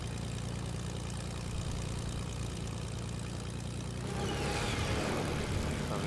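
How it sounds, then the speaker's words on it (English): A propeller plane flies low nearby in the Fortnite video game, a steady droning engine hum that swells and grows louder toward the end, with no talking. "Alright, there's a plane in front of us, too."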